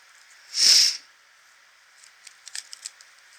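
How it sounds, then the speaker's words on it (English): Tarot cards are shuffled in one quick, close riffle that lasts about half a second, followed by a few soft, scattered card taps and clicks. "I'm gonna shuffle one more time."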